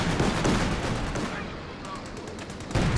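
Machine gun fire in Company of Heroes 2, a .50 cal team set behind sandbags, rattles in dense continuous bursts with layered gunshots and distant battle booms throughout.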